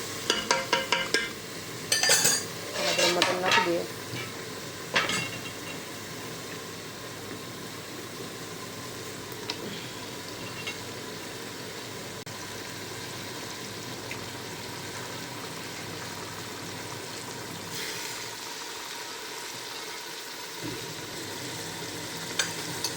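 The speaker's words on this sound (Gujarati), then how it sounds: "હવે આપણે એને સરખી રીતે મિક્સ કરી લઈએ" Masala for mutton curry sizzling and frying in a pan, with a few loud scraping stirs at the start followed by a steady, quieter sizzle.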